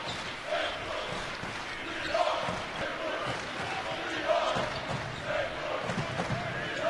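A huge crowd fills the arena at a college basketball game between Wichita State and St Louis, a constant roar of voices and cheering with basketball bounces and squeaks coming through, and a commentator talking over it.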